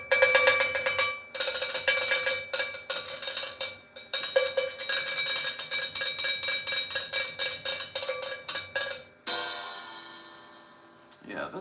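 A cowbell mounted at a 45-degree angle on a percussion setup is struck in rapid, steady rhythmic patterns with brief pauses, bright and close, ending with a ringing crash-like wash.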